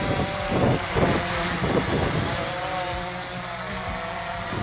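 Steady wind buffets the microphone in low rumbling gusts, with the faint motor whine of a XIRO Xplorer quadcopter drone high above and indistinct voices mixed in.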